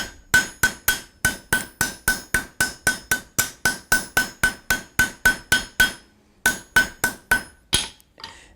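Hammer blows ring on steel while a barbecue spoon is forged on an anvil, a fast, even series of about twenty sharp metallic strikes, loud and close, with a short pause before a final few.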